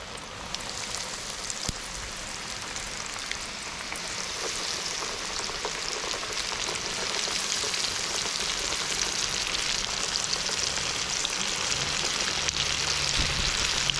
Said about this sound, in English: Oil's all heated up. Yep, let's drop some more fish in.